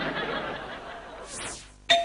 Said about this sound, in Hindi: घंटी बजते हुए बहुत देर हो रही है